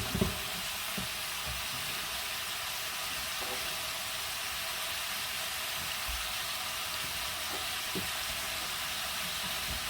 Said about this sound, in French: Là, on va faire vraiment bien brunir les morceaux